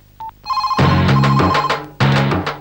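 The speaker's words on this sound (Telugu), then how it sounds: "ఫోను మోగుతుంది" A telephone rings indoors with a loud electronic ringtone, sounding a short chirp and then two bursts of a repeating melodic tone.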